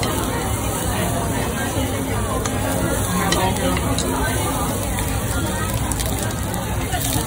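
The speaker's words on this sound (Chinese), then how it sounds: "咁店員咧先用京葱同洋葱爆香咗個鍋先，加埋牛嘅油脂啦" Sukiyaki pot sizzling with leek, onion and beef fat in a Japanese izakaya, a steady broadband hiss and crackle heard close under constant restaurant chatter and hubbub.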